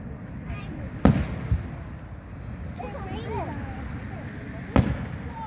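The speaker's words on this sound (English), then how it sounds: "Fireworks." Holiday fireworks going off outdoors, with two sharp loud bangs a few seconds apart over a rumbling, crackling background; people talk and exclaim nearby.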